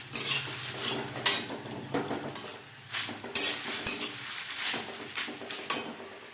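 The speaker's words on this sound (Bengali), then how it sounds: "ডাঁটার সাথে সবজি বেশ ভালো করে মিক্স করে দেব।" A spoon stirs cauliflower stalks and vegetables in a hot pan, giving a series of scraping clinks and knocks against the metal at an uneven rhythm, close and moderately quiet.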